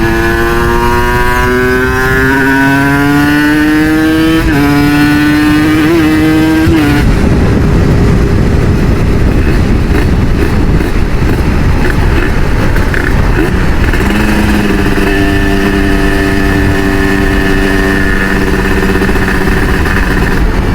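A Kawasaki Ninja RR two-stroke motorcycle with a Moto1 59mm ceramic cylinder block and a small PWK KX85 carburetor pulls uphill in a heavy gear. The engine revs rise steadily, then shift, and it roars loud and close throughout.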